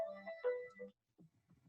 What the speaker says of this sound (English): Sure, my phone's going to ring.